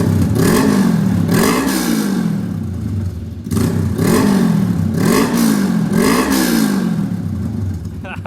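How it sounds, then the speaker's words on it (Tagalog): Honda Rebel 500 motorcycle engine revved repeatedly from idle, with about five rising and falling throttle blips in a steady rhythm, loud and close through the exhaust, with a brief pause in the middle. "So now we're gonna rev it a little bit."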